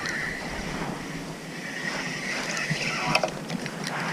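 Steady wind gusting across open water on a fishing trip from a small boat, a continuous broadband rush with faint water lapping and light bumps near the microphone.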